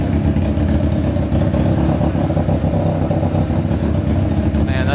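A Honda CBR600 motorcycle engine swapped into a go-kart idles steadily, a loud, dense, continuous mechanical drone with a faint rattle running through it the whole time and no one speaking.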